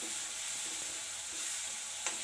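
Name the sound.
garlic and green chilli paste frying in oil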